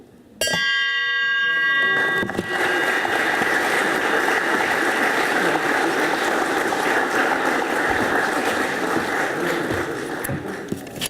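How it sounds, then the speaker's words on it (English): A single bell strike ends a Rotary club meeting in Ketchikan, Alaska, ringing out loud and close, then holding a long, slowly fading ring over about ten seconds of room noise. "we usually end our Rotary meetings with a hit of the bell"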